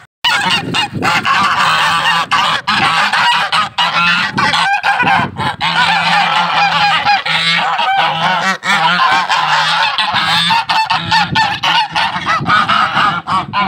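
Loud, continuous honking from a flock of geese nearby, with many overlapping harsh calls and no pause.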